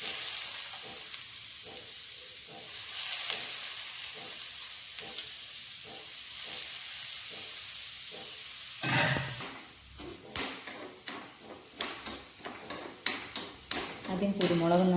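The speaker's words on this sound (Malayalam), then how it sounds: "ആദ്യം കുരുമുളകൊന്ന് നല്ലോണം ചൂടാക്കട്ടെ." Black peppercorns and cumin dry-roasting in a hot pan, a steady soft sizzle and hiss for most of the stretch, then sharper clinks and scraping of a spoon stirring the spices near the end.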